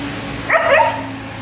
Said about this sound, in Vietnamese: Chó nhà ai, không biết luôn.